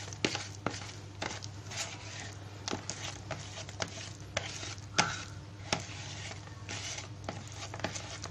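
A carp fishing bait mixture stirred by hand, with repeated soft thuds and squishy knocks at an irregular pace over a steady low hum, quiet and close, with no one speaking.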